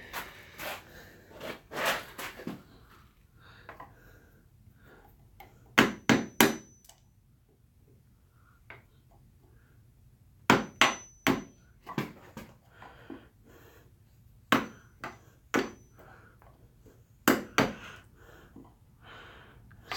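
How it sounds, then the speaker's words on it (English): A Stanley hammer strikes a screwdriver used as a chisel to cut a notch in wood, sharp metallic taps in irregular clusters of two to four blows, close and loud with quiet pauses between. "Let's just clean it up a little bit with a screwdriver and the hammer."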